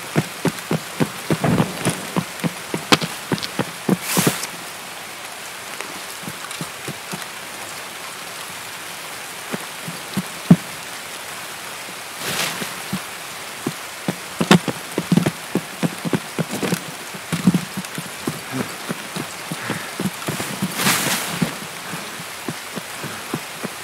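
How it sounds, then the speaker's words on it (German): Loud rain in the video game Escape From Tarkov, a steady dense patter with scattered sharper drop impacts and brief heavier gusts, continuing alone without talk. "Ist der Regen mal ja auch so laut?"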